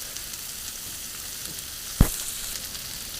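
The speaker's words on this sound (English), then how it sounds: "You got that sizzle going down here along these lower edges, lower portions." Smash burger patties with onions sizzle on a griddle in a steady, close hiss, broken by one brief sharp clack of a spatula near the middle, no voices.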